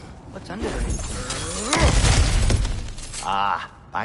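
Breakable objects shatter and crumble as they are smashed in God of War Ragnarok, with a loud crash of breaking debris swelling midway and a few clattering impacts trailing after.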